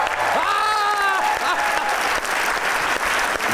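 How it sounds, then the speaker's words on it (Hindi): A studio audience at a Pakistani comedy talk show applauds loudly and steadily, the dense clapping running the whole stretch while a brief tonal whoop or whistle rises over it near the start. "आप लोग भी तालियां बजाइएगा अगर आपको कोई इनकी चॉइस पसंद आए"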